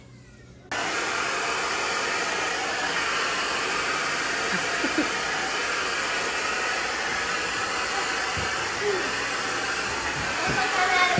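A handheld hair dryer blowing on hair at home switches on and runs as a steady, loud, broadband whoosh for the rest of the moment, close to the mic, with faint talking mixed under it.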